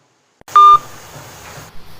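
A short electronic phone tone sounds once, a steady beep lasting about a fifth of a second, followed by a quieter hum and faint background noise, indoors.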